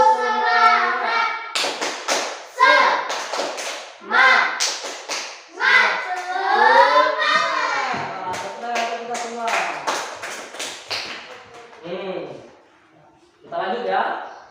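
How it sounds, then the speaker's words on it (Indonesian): A classroom of children chants together during a religion lesson and breaks into rhythmic spirit claps. Quick tapping bursts fall between loud, lively voices, and a teacher speaks near the end. "Kita tepuk semangat terlebih dahulu ya."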